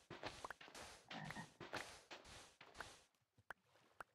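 A frog in the Minecraft video game gives repeated rasping croaks and squeaks in a rapid irregular series, fairly close, followed by a few sharp isolated clicks.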